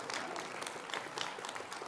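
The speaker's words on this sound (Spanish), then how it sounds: "Aplausos generosos." Generous applause from a church audience, a steady dense wash of clapping that fills the whole stretch without pause, moderately loud and unaccompanied by speech.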